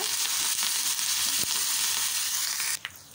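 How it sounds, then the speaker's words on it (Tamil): Ginger, green chili and curry leaves are stirred in a frying pan, giving a loud, steady hiss of sizzling oil throughout, broken by a few faint scraping knocks and a brief clatter near the end. "இப்போ இது எல்லாத்தையும் சேர்த்துட்டு நல்லா கலந்து விட்டுக்கோங்க."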